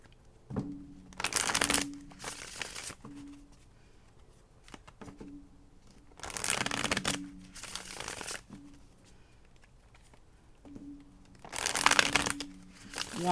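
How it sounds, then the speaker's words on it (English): Tarot cards are shuffled in three separate bursts of quick riffling, close and fairly quiet, with soft rustling and handling between them. "One more shuffle."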